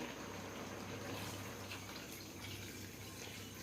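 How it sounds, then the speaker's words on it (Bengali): Water is poured into a potato and pointed gourd curry, a faint continuous splashing rush that runs evenly throughout with no talk. "এখন আমি এটার ভিতরে তার পরিমাণ মতো পানি দিয়ে দেবো"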